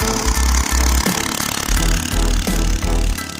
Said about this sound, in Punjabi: ਜਿਹੜਾ ਆਪਣਾ ਮੋਟਰਸਾਈਕਲ ਹੈ ਉਹ ਚੰਗੀ ਤਰ੍ਹਾਂ ਖਿੱਚ ਰਿਹਾ ਜੀ